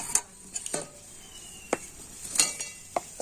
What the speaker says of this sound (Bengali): টুটিপুটি দিয়েও ব্যাটারটা আবার একটু ভালো করে মিশিয়ে নেব